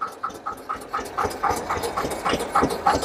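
An Eicher 242 tractor's diesel engine runs steadily with a quick, regular chugging beat and a hissy, mechanical clatter, close by and with no talk over it.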